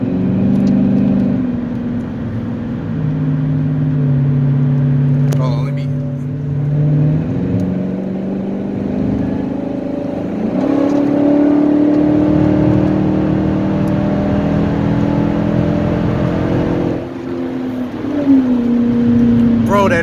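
A Dodge Charger R/T's loud exhaust roars as the engine revs up and down in long swells, with a voice talking over it.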